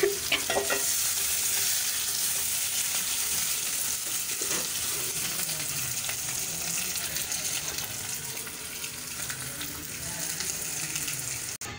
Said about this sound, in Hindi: पोटैटो को उसके अंदर ही मैं कर देना है चॉप इस तरीके से